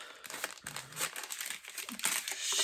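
Tissue paper wrapped around florals crinkles and rustles continuously and close up, with no talking.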